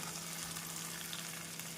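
Chopped kohlrabi stir-frying with mashed tomato in a pan over a medium flame, a steady, even sizzle running throughout at moderate volume with no voices.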